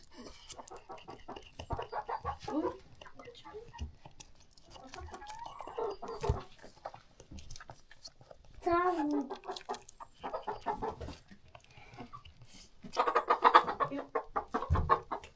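Hens clucking in bursts amid a busy yard, with children and adults talking over and between the calls.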